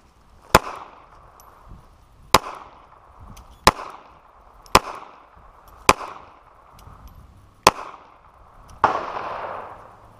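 Seven sharp gunshots from a .22 rifle at an outdoor gun range, spaced about one to two seconds apart, each a crisp crack with a short ringing tail. The last shot is followed by a louder burst of noise.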